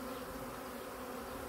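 A honeybee swarm with hefty drones buzzes densely and continuously, a loud close hum with no pause and no voices.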